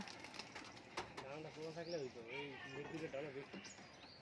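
Pigeons kept for sale coo in soft, rolling, repeated phrases, with a brief flap of wings near the start, all faint and close by while someone talks over them.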